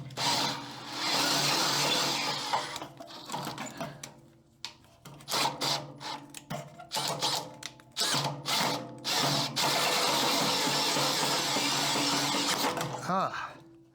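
A power tool drives a bit in reverse, whirring steadily at first, then stuttering in short on-off bursts before settling into a long continuous loud run close by.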